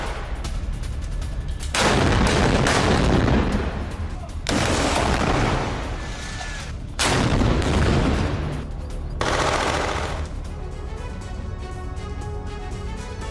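Heavy gunfire and artillery blasts roll in long, dense bursts during an Israeli military attack in northern Gaza, loud and sustained with brief lulls between volleys.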